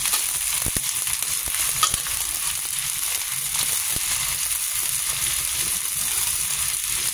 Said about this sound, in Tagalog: Ito na po yung ginigisa kong sardinas.